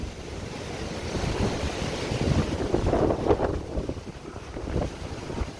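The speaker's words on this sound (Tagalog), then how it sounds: "Ayan, malakas ang hangin." Strong wind buffets the microphone in a steady rush, with surf rumbling underneath at a seashore tourist spot on Siargao Island. Gusts swell and ease, and there is no talking.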